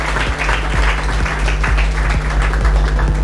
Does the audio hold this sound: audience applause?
yes